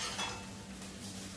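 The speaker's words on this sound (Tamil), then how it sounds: "இப்ப கடுகு வெடிச்ச உடனே இந்த உளுத்தம்பருப்பு போட போறோம்" Urad dal tipped into coconut oil with popping mustard seeds gives a soft steady sizzle, with light scraping and clinks of a utensil against the pan, close and fairly quiet.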